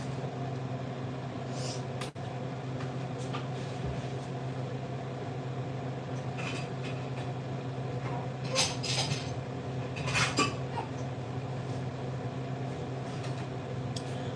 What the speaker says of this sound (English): Putting a lid on my rice because it is now boiling.